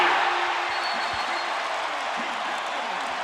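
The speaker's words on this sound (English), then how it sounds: "Now you hear the crowd." Basketball arena crowd at a Chicago Bulls game cheering and applauding in a broad, steady roar during a timeout, loud and continuous without a break.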